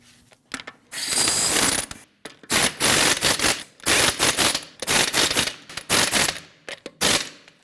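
Ratchet wrench snugging lug nuts on a 2012-2016 Honda CR-V after a front camber kit install, loud close bursts of rapid clicking ratcheting in several repeated runs with short pauses between.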